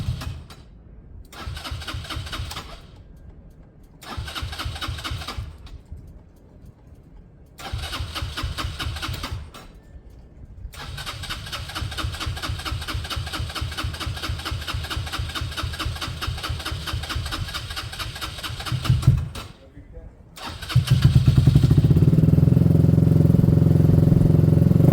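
An exhaustless Yamaha YBR motorcycle engine cold-starts: several short cranking bursts with pauses, then a sustained rough running stretch, a brief stop, and a louder, deeper idle near the microphone at the end.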